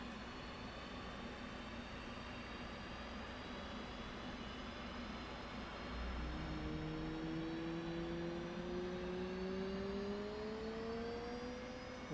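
An F/A-18's right engine spooling up aboard a carrier in the DCS flight simulator: a steady turbine roar and hum with rising whine tones that climb in pitch over several seconds, continuous and fairly loud.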